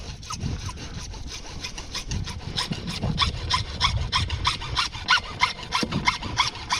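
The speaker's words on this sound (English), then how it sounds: "I like to just use my saw and cut off a little piece." Hand saw cutting through a heavy length of SCH 40 PVC pipe, with rapid rhythmic back-and-forth rasping strokes, close and clear, growing slightly louder as the cut goes deeper.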